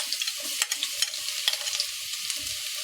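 Two cloves of finely chopped garlic frying in hot oil while being stirred, giving a soft continuous sizzle with light scraping clicks throughout, no voices.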